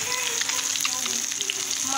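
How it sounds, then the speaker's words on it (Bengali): Fish frying in oil in a home kitchen, a steady broadband sizzle with scattered crackles and pops running through the whole stretch, fairly close and even in loudness. "এদিকে মাছ ভাজা হচ্ছে"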